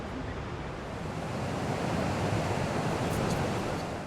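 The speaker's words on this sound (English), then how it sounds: "Way bigger rapids and not so many rocks" Big whitewater rapids on the Nile River in Uganda roar as a dense, continuous rush of water, loud and close, with no voices over it.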